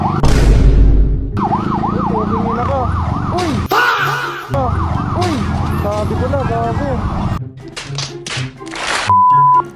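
An ambulance siren wails in repeated rising and falling sweeps, loud and close, cutting in and out among other noisy bursts in a comedic meme montage.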